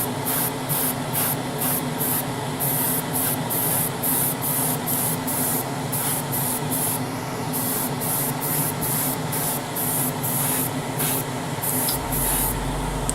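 Airbrush or spray can hissing in repeated short bursts while paint goes onto 1:12 scale Tamiya Repsol Honda RC211V '03 model motorcycle fairings and seat parts; steady close spray pulses, no talk.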